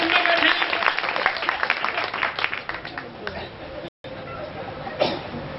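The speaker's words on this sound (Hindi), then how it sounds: "बजाइए जोरदार तालियां।" An audience at a religious poetry gathering claps in a dense burst of applause that gradually thins out and fades, followed by a short pause and a few scattered claps, with voices faintly mixed in.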